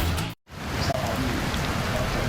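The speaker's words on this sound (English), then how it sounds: "heavy rain falls on the Sao Paulo Indy 300 IZOD IndyCar Series race" Heavy rain pours down on the Sao Paulo street circuit during the IZOD IndyCar Series Indy 300, a loud, steady hiss and patter that cuts out briefly and then resumes at full strength.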